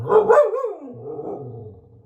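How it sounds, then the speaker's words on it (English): A dog nearby, barking at dolls, lets out a short bark followed by a low, drawn-out whine or growl that fades. "What are you barking at? Stop it. She's barking at the dolls."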